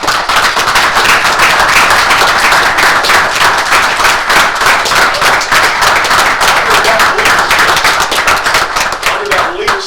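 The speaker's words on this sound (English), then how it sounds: "we want to give them a round of applause" Loud, close clapping from a crowd at a city commission meeting, fast and steady for about ten seconds, with voices mixed faintly underneath.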